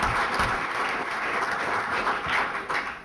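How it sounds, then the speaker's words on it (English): Audience applause at a talk on service and protecting national resources, a steady broadband wash of clapping that holds for about three seconds at close, even loudness with no voices over it. "So give her a round of applause as well."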